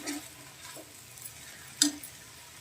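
Tomatoes going into hot oil with onion for a dried shrimp dish, a faint steady sizzle broken by a few light stirring clicks and one sharper scrape against the pan.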